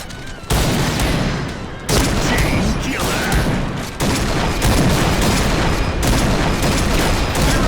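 Heavy bursts of gunfire in the PUBG video game come in several dense volleys. Loud, sharp cracks stop briefly between strings of shots.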